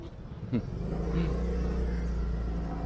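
A motorcycle engine idles and revs steadily at close range with a low rumble throughout, a brief sharper burst near the start, while voices speak faintly over it.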